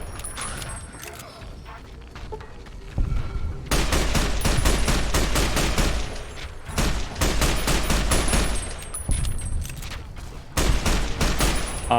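Rapid automatic gunfire from a gun in a Fallout video game rips out in several long, loud bursts after a quieter opening, with short gaps between volleys.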